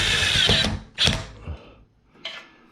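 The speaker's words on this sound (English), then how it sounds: "start everything by hand, then use a drill" A power drill driving a screw while hanging a ceiling fan runs in short bursts, a sustained whir, a quick spin, then a fainter final burst, close and clear with no talking.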